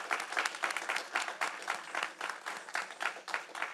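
Audience applause for performers at an artist fellowship award ceremony, a steady wash of many hands clapping at moderate volume, sustained without a break and with no voices over it.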